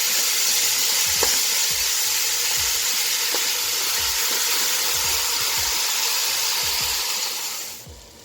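Meat browning in a hot pan for a Moroccan-style dish: a steady, loud broadband sizzle with occasional soft scrapes and low knocks of stirring, fading out in the last second.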